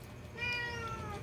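A pet cat gives a drawn-out, wavering meow lasting about a second, moderately close and clear over a faint background hum.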